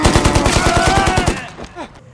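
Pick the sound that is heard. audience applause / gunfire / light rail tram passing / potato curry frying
gunfire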